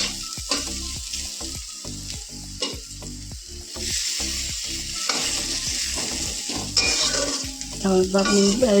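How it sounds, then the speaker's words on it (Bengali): Eggplant pieces and neem leaves frying together in a pan, loud crackling sizzle under repeated rhythmic scraping and knocking of a spatula against the metal, with occasional clinks. "নিম পাতাগুলোকে দিয়ে আর বেগুনগুলোকে দিয়ে একসাথে এভাবে নেড়ে নিয়ে ভাজা করছি"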